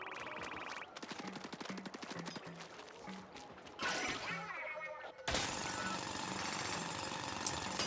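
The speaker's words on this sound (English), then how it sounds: "He is actually going to drill, right?" Drilling machinery in the video game Splatoon Raiders, a loud rapid rattling burst that stutters, pauses, then returns as a continuous harsh grinding roar, mixed with game effects and no talking.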